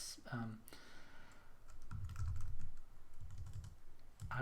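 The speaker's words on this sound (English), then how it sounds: "then I can type in whatever I want here" Bursts of computer keyboard typing while entering text into a Google Form, light clicks in short runs, close and soft, with a voice speaking between and over the keystrokes.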